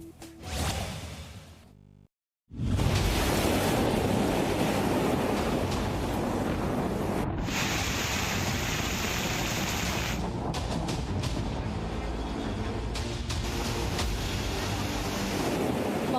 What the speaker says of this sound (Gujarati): પાણીનો ડરામણો પ્રવાહ